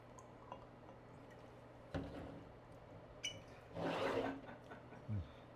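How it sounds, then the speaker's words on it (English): OFC 2006 whiskey is poured into a glass as a short splashing, gurgling burst of liquid. Scattered clinks and small drips come before and after it, all quiet and close. "Pour it up."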